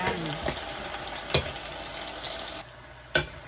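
Beef sautés with caramelizing tomato paste in a pan for beef mechado, a steady close sizzle broken by a few sharp clacks of a spatula against the pan, with no talk over it.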